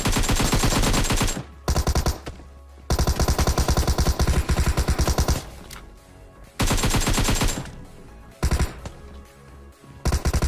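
Video game machine gun fire, an M249 or MK14 in a first-person shooter, comes in long loud automatic bursts, broken by a few brief pauses for reloading.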